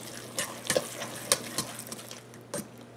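A spoon stirs ingredients into a thick milk-grind cracker batter meant for dehydrated crackers, making soft wet scrapes and several sharp taps against the bowl at irregular intervals.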